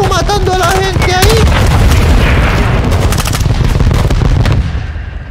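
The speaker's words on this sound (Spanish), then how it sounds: "Buen disparo de misil." Missile launch and explosion in Call of Duty: Modern Warfare 2, a loud sustained roar of gunfire and booming blasts with a whooshing rush, dense and close, fading toward the end; game voices sound briefly at the start.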